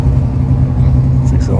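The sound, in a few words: 6-cylinder Holden car engine revving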